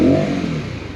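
A Voge R125 motorcycle engine being revved, a brief, loud rising rasp that sinks back toward idle within a second.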